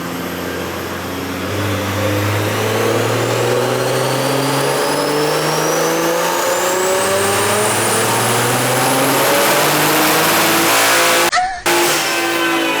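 A tuned, powerful car engine roars under load on a dyno, its pitch climbing steadily through a long, loud pull before cutting off abruptly near the end.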